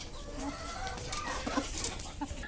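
Native hens in a caged breeding setup cluck softly in short, scattered calls against a steady, noisy background, sounding faint and somewhat distant.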